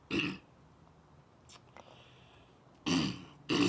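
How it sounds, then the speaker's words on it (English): A short throat-clearing burst at the start, then quiet, followed by two more rough, gravelly bursts near the end, close and fairly loud. "Excuse me, I gotta clear my throat"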